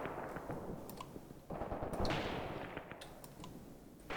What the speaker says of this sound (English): Mortar strike is coming in.